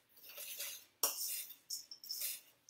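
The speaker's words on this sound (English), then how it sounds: "now I'm going to use a spoon, just kind of stir my nuts to incorporate them into the oats" A metal spoon stirs peanuts into toasted oats in a bowl, giving soft scraping and several sharp clinks against the dish in quick, uneven bursts, close and fairly quiet, with no talking.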